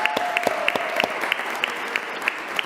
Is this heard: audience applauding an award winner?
yes